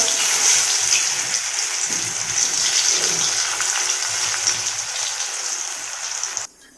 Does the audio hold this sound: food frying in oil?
yes